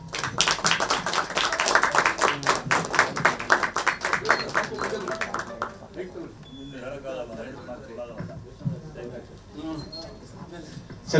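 An audience at a Kannada film trailer launch claps loudly in a rhythmic burst for about five seconds. The clapping then dies away and someone speaks over light background murmur.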